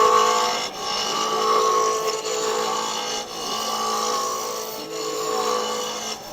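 Wood lathe spinning at 3,200 RPM while a 3/4-inch roughing gouge shapes a honey dipper blank, a continuous loud whirring hum with a bright scraping cut that swells and dips as the tool moves along the wood.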